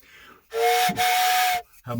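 A single train-style whistle blown close up, a breathy steady tone lasting about a second, briefly interrupted midway.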